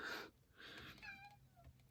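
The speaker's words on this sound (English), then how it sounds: "He sounds very sad, but he is a well-loved cat" House cat meowing indoors, a couple of soft, drawn-out plaintive cries close by at low volume.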